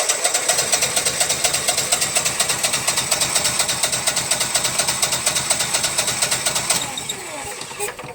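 Generac Honeywell generator engine (model 60341, suffering RPM sense loss) cranking with a rapid, steady rhythmic chug for about seven seconds, loud and close, then dropping off into a quieter whir.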